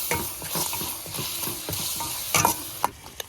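A spoon stirs and scrapes through dal with chilli powder, turmeric, salt and asafoetida in a hot pan, giving a series of quick scraping strokes over a faint sizzle, alone and fairly quiet.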